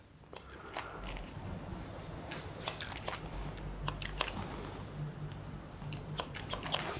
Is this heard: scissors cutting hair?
yes